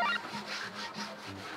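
Hand sanding of wooden furniture, a chair and a table being smoothed with sandpaper, gives a steady, close scratchy rubbing with a few rhythmic strokes and no talk over it.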